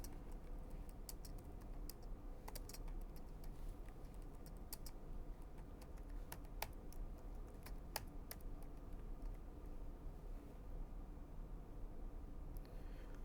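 Java code being typed on a computer keyboard: a steady run of soft, irregular key clicks with occasional sharper taps over a faint hum, fairly quiet and close, with no voices.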